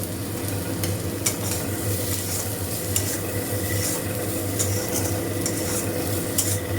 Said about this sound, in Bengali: আর আমি এখানে সব কিছু সতে করছি